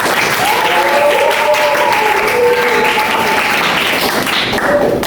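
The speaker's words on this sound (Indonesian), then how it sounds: "Tepuk tangan untuk kita." A classroom of students applauds, dense continuous clapping filling the room at high level for several seconds, with faint voices blended under it.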